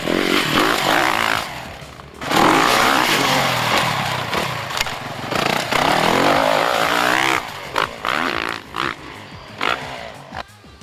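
A 2011 Yamaha YZ450F four-stroke motocross bike revs and rides loudly up close, with continuous engine roar rising and falling through gear changes and throttle blips, tapering into choppier bursts near the end.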